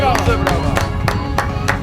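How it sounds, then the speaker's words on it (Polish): Rhythmic, evenly spaced hand claps ring out at a horse racing season finale celebration, about three per second, over a steady low tonal hum. "Duże duże brawa."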